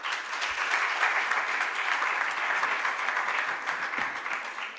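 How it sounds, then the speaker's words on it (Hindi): A seated audience applauds after a recitation at a literary seminar, producing dense, sustained clapping at moderate volume that fills the whole stretch evenly without talk. "आप लोग ने कुछ ज़्यादा तालियां नहीं बजा दी"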